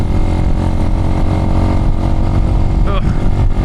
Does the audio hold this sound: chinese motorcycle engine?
yes